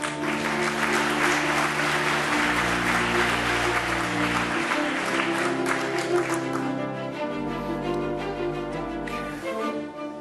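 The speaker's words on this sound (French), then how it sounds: "Applaudissements" An audience claps steadily for about ten seconds at a 2014 conference on spectrum and innovation, loud and sustained, with background music running underneath.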